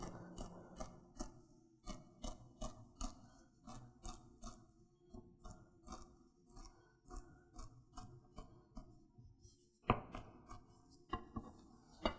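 A Kitchen Emperor chef's knife rocks through food on a cutting board in a run of close, crisp chops, spaced rhythmically at first and then quickening into a faster cluster near the end; no speech.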